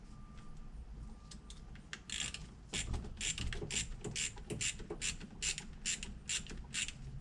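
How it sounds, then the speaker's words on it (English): Ratcheting clicks as a hose clamp on a turbo coolant line is tightened, quiet and close: a few light ticks, then a steady run of sharp metallic ratchet strokes in an even rhythm. "Alright, time to tighten down my hose clamp."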